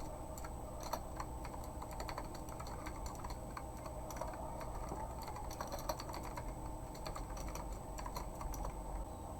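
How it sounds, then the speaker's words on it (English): Rapid, steady typing of code on a computer keyboard for a MATLAB script, with closely spaced soft key clicks at close range running throughout with no talk. "type the given following lines of codes in the MATLAB script"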